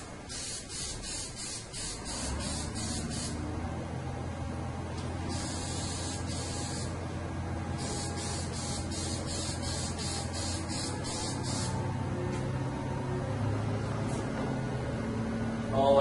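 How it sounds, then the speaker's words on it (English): 3M spray adhesive hisses from an aerosol can onto pool table cloth in several bursts of a few seconds each, over a steady low background hum, close to the mic. "I'll just spray it with this top here"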